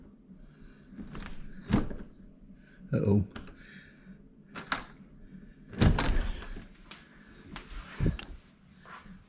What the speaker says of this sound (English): If I open this door, they'll take off because they know they're not supposed to be in here.